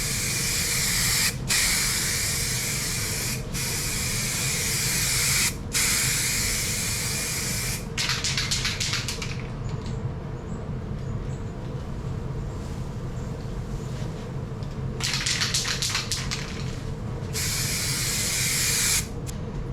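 Aerosol can spraying high build gray primer onto the trunk lid of a 1996 Mercedes SL500 R129, a series of loud hissing bursts of varying length separated by short pauses, close up over a low background hum.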